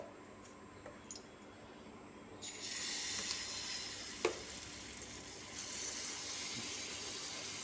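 Uttapam batter poured onto a hot, oil-brushed tawa, starting with a quiet hiss that swells into a steady, close sizzle with a brief sharp crackle partway through, no one speaking.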